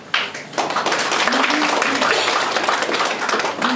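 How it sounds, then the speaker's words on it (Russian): Applause from the audience at a memorial evening and book presentation marking an anniversary, dense, steady clapping filling the room for several seconds, with voices faintly mixed in beneath. "Поэтому это аплодисменты им."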